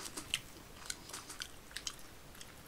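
Someone bites and chews Ttobongi fried chicken near the mic, giving soft, irregular crunchy crackles at a quiet level with no voices.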